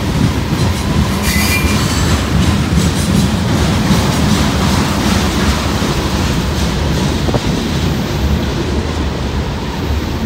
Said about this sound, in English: there goes the Norfolk Southern south on the rat hole